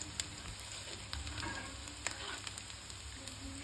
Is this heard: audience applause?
no